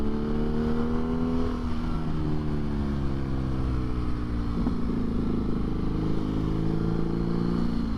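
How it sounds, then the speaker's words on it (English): Loud BMW motorcycle filtering through traffic, its engine droning steadily and close throughout with shifting pitch as the revs rise and fall, no talk. "this bike's quite loud, people do hear it as well"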